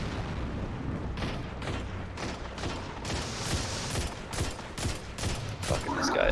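Rapid pistol fire in the game Paladins, repeated shots in an irregular burst-like rhythm, fairly loud and dense over a busy game background.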